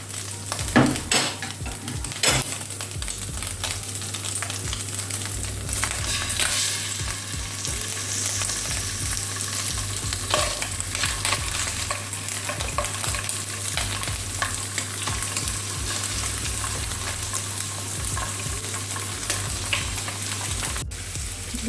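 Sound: frying fish in a pot

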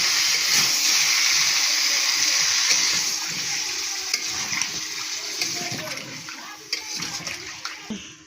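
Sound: water added to pan while cooking rohu fish with greens stalks

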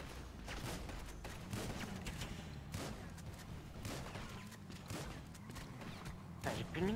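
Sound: gunfire in the video game GTA 5

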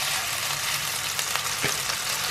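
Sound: vacuum-packed beef frying in pan

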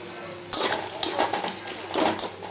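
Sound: onions frying and sizzling in a pan with salt

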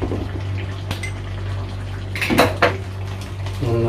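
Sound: stirring crab roast in a pan

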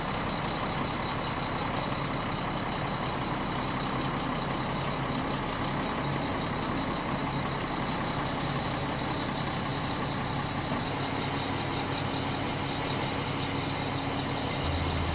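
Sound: boom truck moving slowly with reversing beeps

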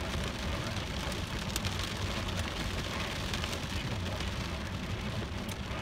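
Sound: hailstorm, rain falling

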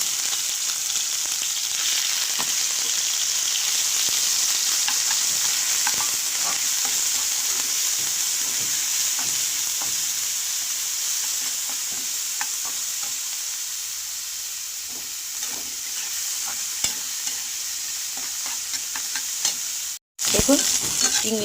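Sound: small prawns frying in hot oil in a wok

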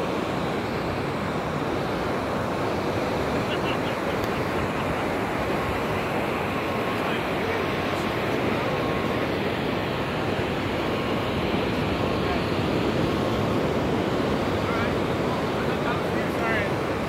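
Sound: large ocean waves breaking on Venice Beach

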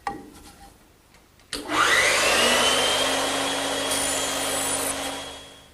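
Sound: band saw cutting a wooden tenon

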